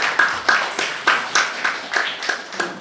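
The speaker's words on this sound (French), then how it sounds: "les applaudir très fort pour nous" Audience applause inside a church, with a steady run of sharp claps from a modest group, fairly close and even in rhythm, with no talking over it.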